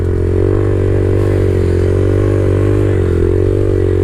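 A Honda Grom motorcycle engine drones steadily and loudly up close while held at balance point in a wheelie, the revs wavering slightly with small throttle changes and clattering mechanical noise throughout.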